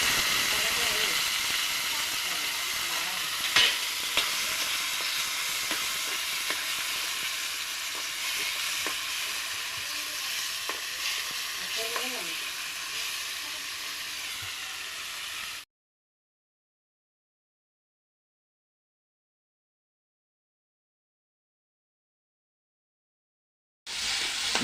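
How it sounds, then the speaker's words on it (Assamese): Onions frying in a kerahi (wok) for a village-style fish and potato curry, a steady bright hiss and sizzle for about fifteen seconds with faint clinks of stirring, then silence before the sizzle returns briefly at the end. "নহৰু দিছোঁ অলপ ৰঙচুৱা হোৱালৈকে ভাজি থাকিম"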